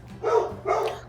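A pet dog barks at garbage collectors outside, two short bursts close by, moderately loud, with no talking over them.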